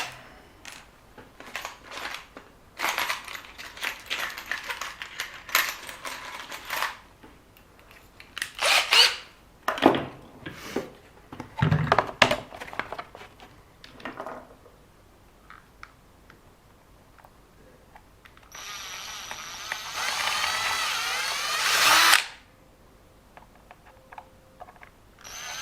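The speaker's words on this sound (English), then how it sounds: "I'm going to drill those slightly larger." A drill enlarging holes in a 1:10 scale RC car body, with short ticking bursts and handling noises followed by one longer steady whirring run near the end.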